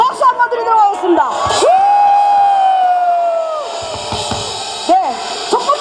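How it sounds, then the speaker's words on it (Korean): An outdoor prayer rally crowd on the Daejeon Station square cheers with one loud, long sustained shout that rises, holds for about two seconds, then falls away. Scattered voices and shorter calls surround it. "박수 한번 드리도록 하겠습니다"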